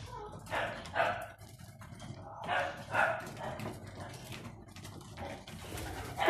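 A dog barks at a distance, apparently at a cat, several sharp barks in irregular bursts among pigeons and doves feeding and cooing nearby.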